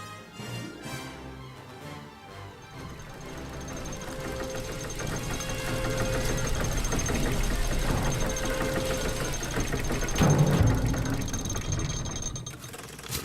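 A mechanical engine chugs and clanks steadily inside the fantasy adventure game The Book of Unwritten Tales 2, with gear-like rattling and a knocking rhythm that swells louder near the end, heard alone with no talk.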